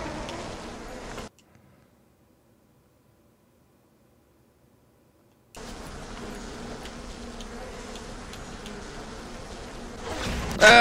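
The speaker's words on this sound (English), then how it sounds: "Bees!" A swarm of bees in a video game drones in a dense, steady buzz that cuts out abruptly for several seconds, then returns just as loud and continuous until the end.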